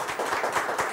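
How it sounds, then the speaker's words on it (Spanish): Applause from a studio audience at a live broadcast in a Pachuca television studio, a steady dense wash of clapping filling the whole second at moderate loudness with no talk over it. "Vamos a darle un fuerte aplauso, por favor"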